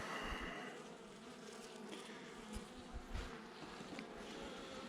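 A colony of Buckfast honeybees buzzes steadily close by, a continuous dense hum with a few louder passes of individual bees, no talk.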